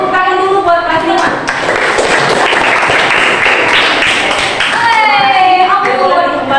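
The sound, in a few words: applause for class 5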